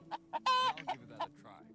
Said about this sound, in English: We have 9 chickens and 2 roosters.